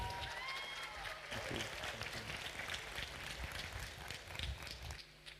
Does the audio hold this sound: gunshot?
no